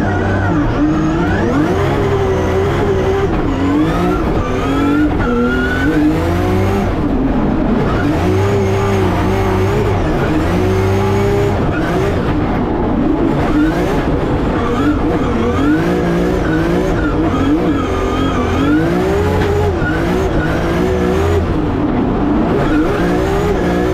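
A drift car engine roars and revs continuously at high power, with pitch rising and falling as the car accelerates and slides, loud and close throughout, at a drift competition at Mondello Park, Ireland.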